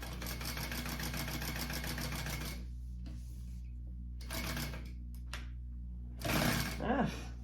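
A sewing machine stitches a handbag, its motor whirring steadily at first and then in short bursts as the foot pedal is pressed, close and moderately loud.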